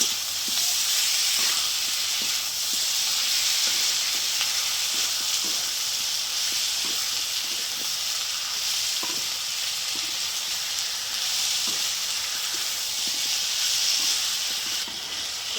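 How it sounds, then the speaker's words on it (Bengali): Ginger, garlic and green chilli paste fries with onion and potato in a pan, a continuous close hissing sizzle with soft repeated stirring taps throughout and no talk. "ভালো করে মশলাটা কষিয়ে নেব।"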